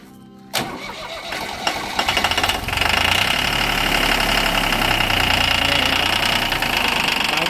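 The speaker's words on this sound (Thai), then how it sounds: "อ่ะเดี๋ยวเราฟังเสียงเครื่องหน่อยตัดเครื่องหน่อย" An engine cranks and starts after a brief silence, then settles into a loud, steady mechanical running with a knocking rattle.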